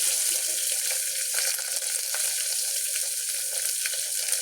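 Small chopped onion frying in a pan for chickpea curry, a steady crackling sizzle that stays loud and even throughout with no talking.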